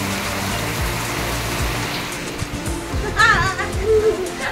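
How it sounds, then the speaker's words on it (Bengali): Heavy rain pours down in a dense, steady wash of noise that holds for the whole stretch, with a brief faint tonal sound rising over it near the end. "এটাতে জোরে বৃষ্টি পড়ছে।"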